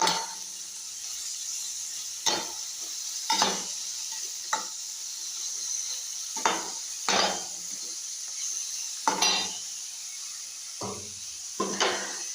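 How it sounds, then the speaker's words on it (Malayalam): Avarakka thoran, a Kerala flat-bean stir-fry with salt, stirred in a pan: a soft continuous sizzle broken by sharp spoon scrapes and knocks against the pan at irregular intervals. "ഇട്ടിട്ട് നന്നായിട്ട് ഇളക്കി കൊടുക്കണം."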